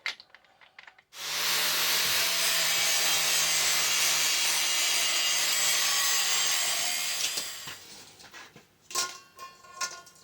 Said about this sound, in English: now I'll change our cutting disc to a grinding disc so I can clean up what's left of those old welds